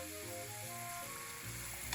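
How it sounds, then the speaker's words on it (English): Steady, dense sizzling of burdock root deep frying in oil at about 170 degrees, constant and fairly quiet with no voices. "I'm going to fry like this for about another minute or so."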